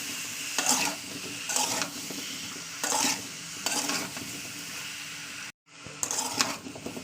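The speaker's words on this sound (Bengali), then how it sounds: "তো চলুন ভালো করে ভাজা করে নিই তেলের সঙ্গে মশলা তেল একসঙ্গে ভালোভাবে করে নেবো" Spices sizzle and fry in hot oil in a home kitchen pan, with several bursts of brisk stirring scraping through a steady crackle, broken by one brief pause before the sizzling resumes.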